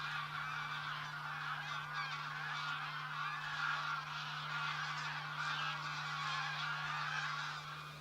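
A flock of geese honks continuously overhead in the wetlands of the Broads, many overlapping calls forming a steady chorus over a low constant hum.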